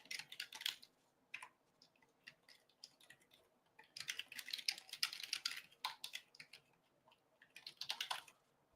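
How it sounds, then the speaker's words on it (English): Bursts of rapid clicking from a computer keyboard come and go in quick clusters, quiet and close, with short pauses between runs of typing and no talk. "Jeez, what am I typing?"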